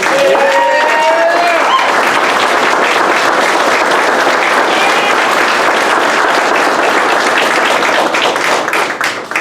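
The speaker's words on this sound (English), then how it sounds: "Let's give a round of applause to our newest Dirtboyz." A graduation audience at a military Dirt Boyz class ceremony claps loudly and continuously, dense crowd applause with a few brief tonal voices early on, fading slightly at the end.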